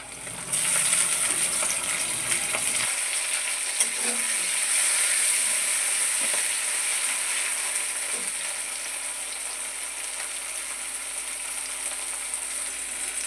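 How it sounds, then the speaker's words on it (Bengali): Chopped onions and tomato fry in a pan with a steady hissing sizzle, occasional clinks of a utensil against the pan, close and continuous without speech. "আমার এখানে পেঁয়াজটা ভাজা ভাজা হয়ে গেছে।"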